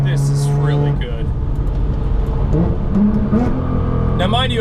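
A modified 800-horsepower all-wheel-drive Nissan GTR Black Edition accelerates hard, engine tone sweeping upward through gear changes with whine and turbo hiss, loud and close from inside the cabin, with some overlapping voice.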